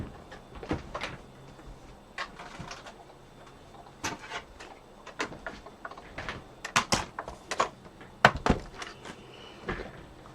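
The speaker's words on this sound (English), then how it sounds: "bring in the cut emboss machine" A cut and emboss machine for card making is shifted into place on a craft table, making scattered close knocks, clicks and light clunks with quiet gaps between them.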